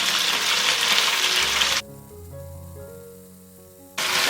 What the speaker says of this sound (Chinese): 用小火慢煎，煎至8成熟